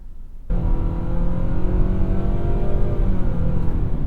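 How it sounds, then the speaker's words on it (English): A 2024 Nissan Sentra's engine revs steadily under acceleration, its drone rising in stepped pulses from the CVT's simulated gear changes, loud and continuous after a brief quiet start. "You hear that fake shifting that Nissan programmed into the transmission?"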